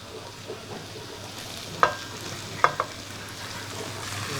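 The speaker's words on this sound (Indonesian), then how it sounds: "Setelah wangi, lalu kita masukkan bawang bombay." Sliced onion sizzles softly in a frying pan, with a steady low frying hiss and a few sharp utensil scrapes as it is stirred; no voices.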